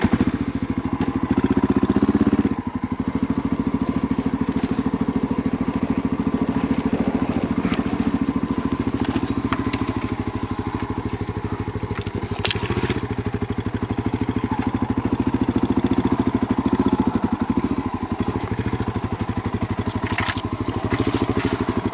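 A big Honda XR motorcycle engine chugs at low revs on a steep ravine trail, a loud, close, steady thumping rumble that holds for the whole stretch with slight rises and dips in throttle.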